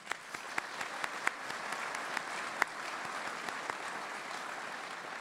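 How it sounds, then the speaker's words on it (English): An audience at a city address applauds for a few seconds, a dense wash of clapping with some sharper individual claps sticking out, fairly distant and steady throughout. "Let's give them a round of applause."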